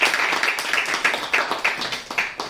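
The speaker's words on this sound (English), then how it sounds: "Give her a big round of applause for her today's presentation." An audience applauds a lecture speaker at a medical lecture series, with steady rhythmic clapping from a modest crowd filling the whole moment, close and fairly loud, with no talking.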